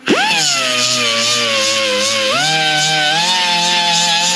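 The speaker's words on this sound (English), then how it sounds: "I'm throwing a lot more sparks off and I'm removing a lot more metal because I'm using the edge of the disc" An angle grinder's disc bites edge-first into metal, throwing heavy sparks; a steady, loud, high-revving whine with a slight pitch dip partway through, continuous and alone.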